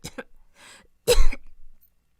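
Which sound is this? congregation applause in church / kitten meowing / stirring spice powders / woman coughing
woman coughing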